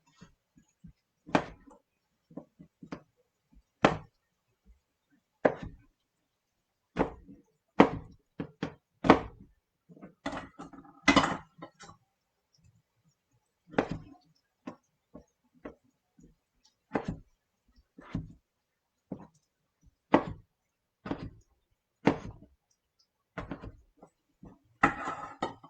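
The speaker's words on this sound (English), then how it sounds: "And I'm chopping." Knife chopping ingredients for clam chowder on a wooden board, heard as sharp, irregular knocks in short bursts with pauses between them, close and clear with no talk.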